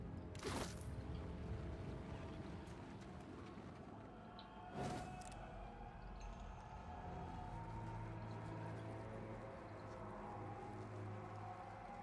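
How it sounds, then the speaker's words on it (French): Waterfall echoing far below in the video game Pillars of Eternity 2, a steady distant rushing wash that runs throughout, broken by a couple of brief louder bursts. "Le bruit de la cascade résonne loin en contrebas."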